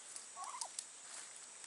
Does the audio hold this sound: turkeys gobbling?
yes